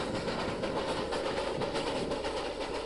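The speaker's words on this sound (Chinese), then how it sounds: "我们乘坐这列当年专为运送采伐木材，如今改为运送生活物资的森林小火车" A small narrow-gauge forest train, once built to haul logged timber and now carrying supplies, runs on its rails with a steady dense rumble and faint rhythmic rattling, heard continuously from on board with no talking.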